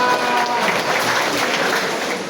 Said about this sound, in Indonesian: 57, tepuk tangan untuk mereka.